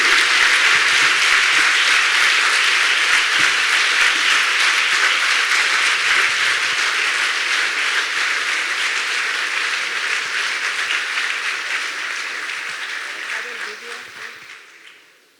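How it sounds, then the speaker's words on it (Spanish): Loud, sustained audience applause at a conference hall as a guest speaker is welcomed to the stage, steady and dense throughout before fading out at the end. "un aplauso muy grande para Pilar Rahola, que le invitamos a subir aquí."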